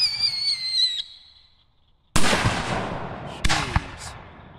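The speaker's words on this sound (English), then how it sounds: "let's go shoot the rest of those canister shells" A firework canister shell goes off outdoors: a fading whistle, a short pause, then a loud sharp launch thump and a second burst, each followed by crackling rumble.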